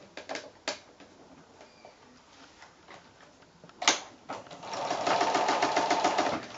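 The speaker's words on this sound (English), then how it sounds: "your sewing machine should fit in there fine. You're just doing the 1/4 inch seam allowance along there." A sewing machine stitches a quarter-inch seam on a quilt-as-you-go strip, starting with a few separate clicks and taps before a steady, rapid mechanical whir of stitching builds near the end.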